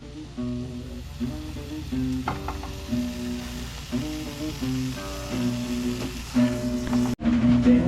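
Tomatoes for salsa tatemada sizzle in a hot pan, a continuous close frying hiss with occasional stirring clatter and a steady tonal hum beneath, swelling briefly near the end.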